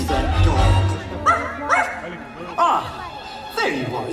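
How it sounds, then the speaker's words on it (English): A dog yelps and barks in short bursts amid a Halloween fireworks show at Disney's Magic Kingdom, heard over a narrator's voice and theatrical music. "Where is that dog?"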